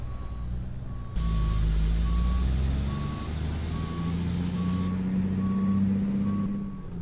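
Peterbilt 357 truck in American Truck Simulator sounding a steady series of evenly spaced reversing beeps over a low, rumbling diesel idle, with a loud burst of air-brake hiss that holds for several seconds and then cuts off.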